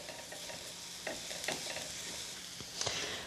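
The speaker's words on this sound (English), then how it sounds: "So this I'm just going to saute gently for a couple of minutes" A pan sautés gently in leftover chicken fat, producing a soft, steady sizzle with scattered crackles and a few stirring scrapes.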